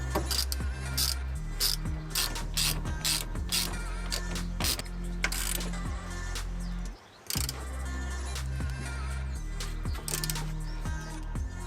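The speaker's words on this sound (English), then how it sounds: "that's as tight as I can get it to physically go with an extended breaker bar" A Classic Mini hub nut being tightened with an extended breaker bar or ratchet, producing repeated rapid clicking ratchet bursts with short pauses between strokes, close and fairly quiet, no speech.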